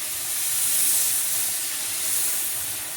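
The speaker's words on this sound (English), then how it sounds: "I'll grill a couple seconds on that side." Steak with sauce sizzling on a grill, a steady broad hiss that swells and eases slightly, close and alone with no talk over it.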